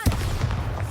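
A Bombarda spell explosion in Hogwarts Legacy, one abrupt booming blast with a low rumbling tail, loud and brief.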